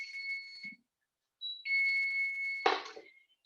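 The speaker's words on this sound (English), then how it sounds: "my timer is going off from my oven" An oven timer beeps in a home kitchen with steady high-pitched electronic tones that come in separate bursts with short gaps, faint and alone, with a brief clatter near the end.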